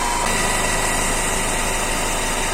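A 3-in-1 electric car jack with built-in compressor runs steadily, a loud, even motor drone with constant buzzing vibration and no pauses throughout.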